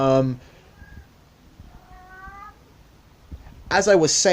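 A pet cat meows indoors, giving a few thin, drawn-out cries between bursts of a person talking nearby, with louder speech at the start and end.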